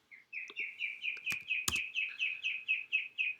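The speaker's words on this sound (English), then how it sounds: "And there's a very loud bird outside of my window." A loud bird sings just outside a window, repeating a clear chirping phrase about a dozen times in an even rhythm, with a couple of short clicks partway through.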